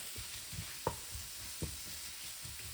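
Spices and shakshuka base sizzling gently in a pan on low heat, a steady soft hiss with a couple of faint knocks.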